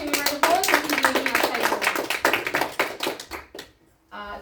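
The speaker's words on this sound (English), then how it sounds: "Please give me a round of applause." Players around a game table give a round of applause, close hand claps in a dense rhythmic burst that thins out and stops. A brief pause follows, then a voice speaks.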